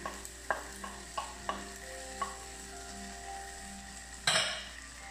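Cooked egg stir-fried back together with tomatoes in a pan, a quiet sizzle with several separate utensil taps and scrapes, then one louder clatter near the end, and no talking.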